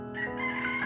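A rooster crows in one brief, loud, close call with a harmonic, strained tone.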